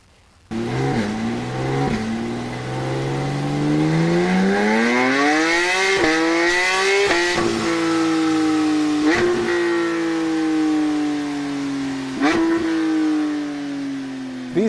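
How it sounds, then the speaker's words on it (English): A Porsche flat-six engine starts abruptly, then climbs steadily from a deep growl toward a higher, sustained wail, holding high revs with a few sharp blips; loud, near and alone. "Flat 6 engines usually have a deep, throaty growl, which leads to a high-pitched scream."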